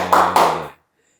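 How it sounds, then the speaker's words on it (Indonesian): A brief burst of clapping from a small group, loud and close, lasting under a second before cutting off into silence. "tepuk tangan dong buat Mas Hamam."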